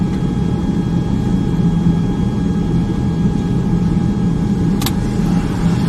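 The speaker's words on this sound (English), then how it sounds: "Who's just roasting his freaking tires" A two-wheel-drive Ford F-150 spins its tires in snow, its engine droning steadily and loudly at close range with a brief high whine near the end, no talk over it.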